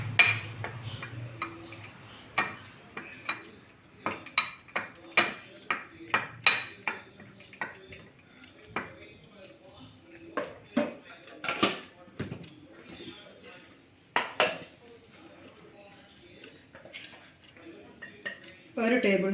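A spoon stirs a chili powder spice mixture in a bowl, giving a run of irregular close clinks and scrapes against the bowl, with talking at times.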